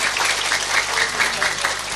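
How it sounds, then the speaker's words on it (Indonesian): An audience applauds the regent at an Indonesian religious gathering, a full, continuous wash of clapping that holds steady for its whole length. "Tepuk tangan untuk Pak Bupati."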